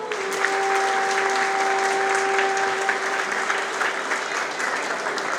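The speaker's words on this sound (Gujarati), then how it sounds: "જોરદાર તાળીના ગડગડાટ વડે આપણે વધાવીએ" An audience at a Gujarati youth community prize-distribution and honours ceremony claps together in a sustained, dense round of applause that holds steady throughout, with a faint tone humming underneath.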